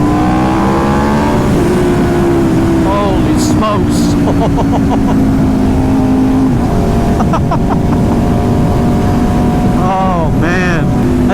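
An Aprilia RSV4 superbike running a Gabro full-map ECU flash tune howls loud and close, its engine note sweeping down in pitch under short bursts of excited talk, with sharp revs and crackles near the end.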